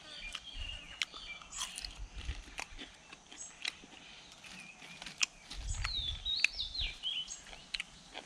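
Someone eats fried roe-filled fish outdoors while cooking in the forest, with close soft bites and wet chewing in an uneven rhythm, quiet, and birds chirping faintly in the background.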